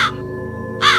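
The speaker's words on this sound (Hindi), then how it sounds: "ऊंचे आकाश से उड़ता हुआ काला कौवा अमरूद के पेड़ के चारों तरफ चक्कर लगाने लगा।" A black crow circling a guava tree gives two loud, close caws, one at the start and one near the end, over a steady low hum.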